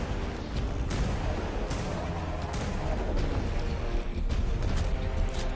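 Repeated gunfire in Ark: Extinction aimed at crystals during a Forest Titan fight, a dense run of loud booming shots over a constant rumbling game background.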